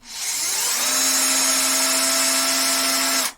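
An Einhell TE-CD 18 Li E cordless drill spins up and holds a steady, loud whine with a bright motor hum for about three seconds, then cuts off. The drill runs alone, close by.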